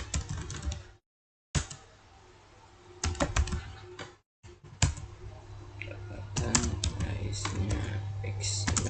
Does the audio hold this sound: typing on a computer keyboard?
yes